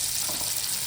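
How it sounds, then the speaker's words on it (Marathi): Pressurised water gushes out in a steady, dense hiss, loud and close, with no voices over it. "हे पाणी बघ कशी निघतंय."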